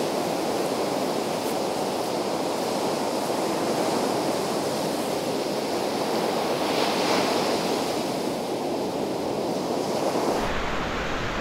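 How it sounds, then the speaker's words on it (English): Cold December ocean surf breaks along a jetty in a continuous, loud roar of white water. Wind buffets the microphone with steady rumbling noise, and no one speaks. "Lots of good white water here."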